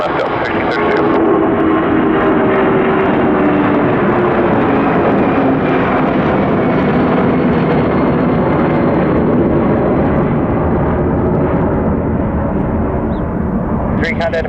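A Delta airliner landing on runway 21 left at Detroit Metro Airport, a loud sustained engine roar that stays strong and close for the whole stretch, with radio chatter faintly underneath.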